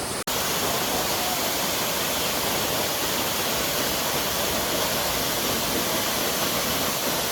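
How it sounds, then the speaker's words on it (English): Danlin Falls in Kaohsiung pours steadily into a swimming pool below, a loud, continuous broadband roar of falling water close by, unbroken after a brief click at the start. "but yeah, this is Danlin Falls."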